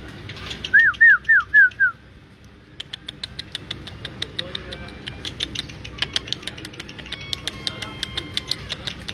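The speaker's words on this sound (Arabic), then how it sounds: "هذا حمام المطيار" Flying homing pigeons in a loft, a few close whistling coos at first, then a long run of rapid soft patters and flutters, with faint talk in the background.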